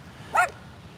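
A single dog bark near a snowy mountain waterfall after snowshoeing, one short sharp burst standing out over a quiet background.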